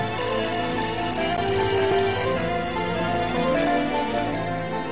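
A telephone rings in a home in the morning, a continuous loud electronic trill that holds steady with no talk over it.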